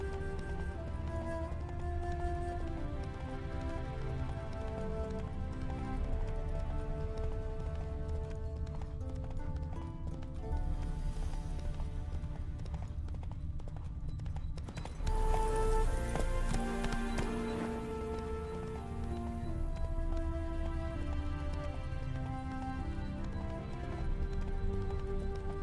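Roach the horse galloping in The Witcher 3, rapid hoofbeats blended into a constant bed of orchestral game music that largely covers the rhythm, with a surge in intensity partway through.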